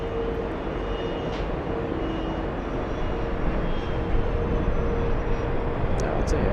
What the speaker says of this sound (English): as we zoom into the American Airlines arrival, this is a 737 flying in from